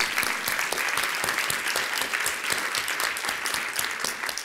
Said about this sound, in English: I want to clap for all those people.